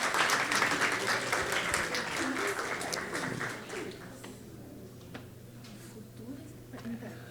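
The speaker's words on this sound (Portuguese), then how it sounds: "Uma salva de palmas para essas irmãs" A church congregation applauds three sign language interpreters, with a dense round of clapping that is loudest at the start and fades gradually, while people talk over it.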